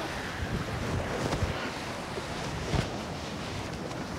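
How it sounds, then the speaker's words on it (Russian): Strong wind in the Tian Shan mountains of Kyrgyzstan roars as a dense, continuous buffeting rush across the microphone, loud and unbroken with a few heavier gusts. "Ветер сильный."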